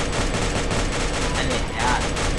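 Rapid gunfire fills a Free Fire mobile battle royale match as dense, continuous bursts with no gaps, with a voice partly audible over the shooting.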